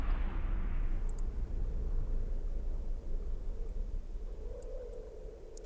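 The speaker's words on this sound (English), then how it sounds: "once you fail a hack, the object explodes" An object blows up in EVE Online after a failed hack: a deep rumbling blast opens loud, then settles into a long, steady low roar with a few faint high glints. No voices are heard.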